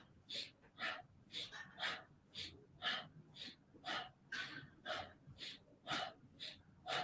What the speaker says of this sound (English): you can work with quite a powerful breath if that feels good. Inhale forward, exhale round.